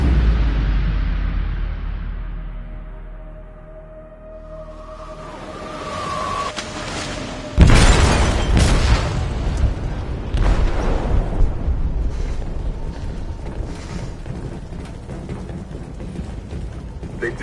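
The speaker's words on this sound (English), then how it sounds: "They detonated an explosive in the hold" A bomb goes off inside a ship's hold in Detroit: Become Human, a heavy, sudden boom rising out of quieter rumble and ambience, then leaving a long roaring, rumbling aftermath.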